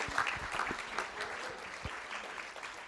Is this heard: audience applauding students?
yes